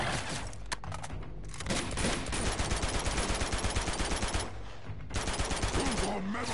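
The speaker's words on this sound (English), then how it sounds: "Just keep shooting!" Dense, rapid automatic gunfire fills nearly the whole stretch in a video game firefight, loud and relentless with brief gaps, layered over game noise.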